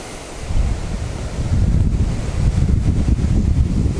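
Gusty wind buffets the microphone outdoors at night during an air-rifle field target shoot, a loud rumbling roar that swells and surges without a break.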